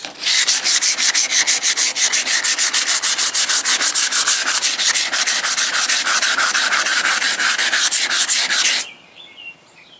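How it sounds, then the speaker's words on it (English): Folded 80-grit sandpaper rubbed by hand over surface rust on the bare metal of a 1974 Chevy Caprice body, a loud, steady rasping scrub in fast, even back-and-forth strokes for about nine seconds before stopping. "On this surface rust here, I just got me some 80 grit folded in half."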